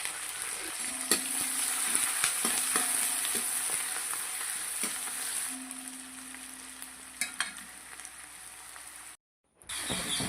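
Onion and green chilli sautéing in hot coconut oil, a continuous bright sizzle with intermittent spoon scrapes and knocks against the pan, close and steady, briefly cut to silence near the end, no talking.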